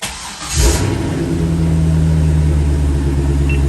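A Chevrolet C5 Corvette's engine cranks briefly, then fires with a loud roar that settles into a steady, deep, rumbling idle, close by.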